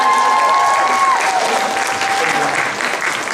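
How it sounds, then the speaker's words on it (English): An audience at a Democratic National Convention caucus session for Asian American and Pacific Islander delegates gives steady, dense applause that fills the room throughout, with faint voices and a brief tone in the background. "I wanted to start off by giving a round of applause to KJ and Mel"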